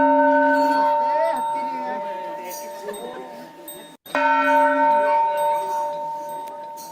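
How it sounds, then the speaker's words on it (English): A temple bell rings out in a sustained, resonant tone with layered overtones, continuing steadily for several seconds, briefly cut off near the middle before resuming at full strength. "the exact sound that I was listening to was that of a bell sound, a temple bell sound"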